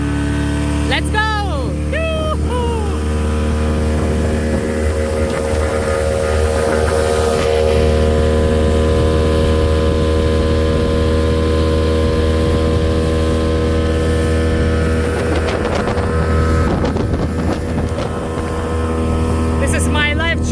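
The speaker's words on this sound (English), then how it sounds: "To reach this island, you have to take a boat." Motorboat carrying passengers to an island near the North Korea and China border, a loud steady engine drone with heavy wind noise throughout, and voices talking briefly over it.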